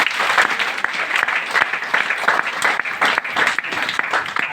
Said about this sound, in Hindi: फिर से एक जोरदार ताली करता हूं